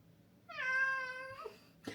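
A pet cat named Malo gives one clear, drawn-out meow at close range, rising and then falling. A short rustle follows, and no one speaks.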